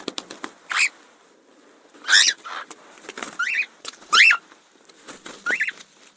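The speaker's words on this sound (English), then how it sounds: "The answer is a canary chirping." A canary chirps in short, bright bursts of high trills spaced about a second apart against a quiet background, close and clear with no voices.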